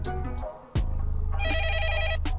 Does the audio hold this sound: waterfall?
no